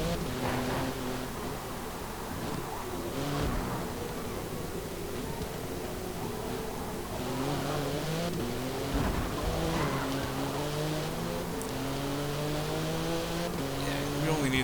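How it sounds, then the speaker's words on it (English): A race car drifting in the racing video game Forza Motorsport 7, with a continuous engine roar whose pitch rises and falls through gear changes and tire noise, someone talking over it throughout. "we are basically drifting this car right now"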